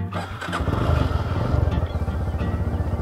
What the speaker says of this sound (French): je monte sur la moto et on y va